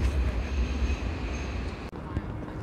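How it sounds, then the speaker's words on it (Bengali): Sydney Metro train near Chinatown, a low steady rumble of rolling carriages close by with a brief sharp click near the end and a voice faintly audible over it. "সিডনি শহরের মেট্রো দেখতে পাচ্ছেন"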